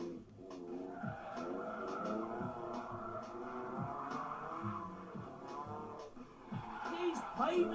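A VW Golf GTI chassis pushed to its limit, tyres squealing in repeated long skids over a steady engine note, with a voice talking over it throughout.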